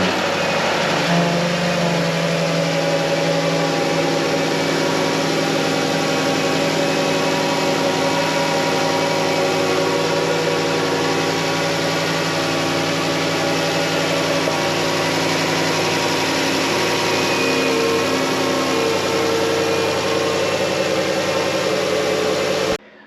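A Dodge Grand Caravan's Pentastar engine, just fitted with a new oil filter housing, runs at a steady close idle, a continuous even hum with no talking.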